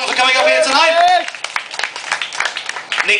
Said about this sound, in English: Please give Nick a huge round of applause,